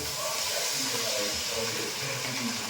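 Fried chillies tipped into a wok of roasting Varhadi-style brinjal bharit in hot oil, giving a steady broadband sizzle and hiss throughout, close and moderately loud with no talk.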